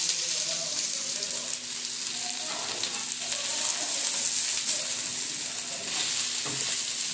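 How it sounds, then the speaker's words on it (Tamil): Tofu frying lightly in a home-kitchen pan, a steady close sizzle that runs throughout with occasional soft stirring scrapes. "லைட்டாக ஃப்ரை ஆனால் போதும்."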